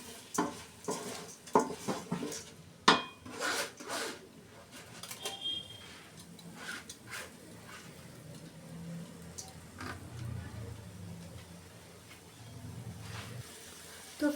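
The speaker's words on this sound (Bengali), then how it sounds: "এরপর আমি এখানে ধুয়ে রাখা চাল ডাল দিয়ে দেব।" Washed rice and lentils tipped into a rice cooker pot for khichuri, giving scattered clinks, scrapes and soft rattling handling noises over a low background, with a louder knock near the start.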